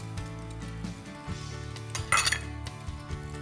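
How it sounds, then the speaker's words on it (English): Eggs are whisked with hot melted butter in a bowl for a vinegar pie, bringing rapid metallic clinking and scraping of the whisk against the bowl, close up and briefly louder near the end. "and just whisk until that's all combined"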